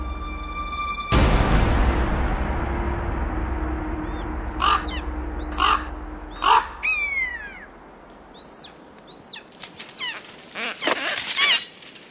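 Raven calls ring out in a forest beside a deer carcass that a wolf has opened, a series of harsh croaks and caws in short bursts, some close and loud, others fainter, after a brief low rumble at the start.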